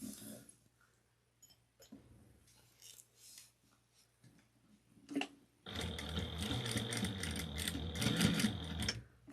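A domestic sewing machine bastes fabric pieces for a wristlet together, starting after quiet handling noises and running in a steady, close, fairly loud continuous whir with rhythmic needle ticks for the last few seconds.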